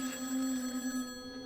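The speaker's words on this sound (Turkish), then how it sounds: "Telefon çalıyor." A telephone rings steadily in the horror video game Eyes, a sustained electronic bell tone that carries clearly throughout the short moment with no talking over it.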